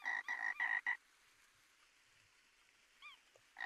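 Frog croaking in the video game Gorilla Tag, a quick run of loud, close croaks at the start, a short chirp midway, and another croak burst at the end, with near silence between.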